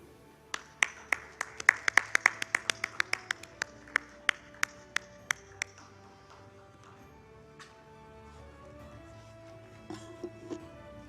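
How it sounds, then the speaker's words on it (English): A few people at a wellness and health-tech summit clap in a sparse series of sharp claps that slows and thins out after about six seconds, then leaves a quiet room with faint background sound. "Ladies and gentlemen, please put your hands together"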